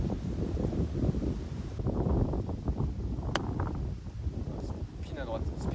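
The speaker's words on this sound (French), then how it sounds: "Ouais, le vent est énervé là." Strong gusty wind on a golf course, rumbling microphone buffeting that surges and eases, close and loud, with people talking over it.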